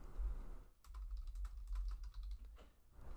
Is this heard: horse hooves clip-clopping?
no